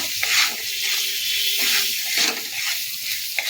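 Potatoes and vegetables with salt are stirred in a hot pan for sagu aloo, giving loud sizzling hisses that surge in waves with scraping movements, no one talking.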